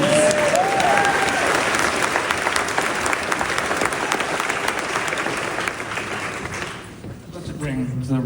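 An audience at a film Q&A for After The Hunt applauds director Luca Guadagnino with dense, sustained clapping that holds steady for several seconds, then thins out near the end as a voice is heard at the edges.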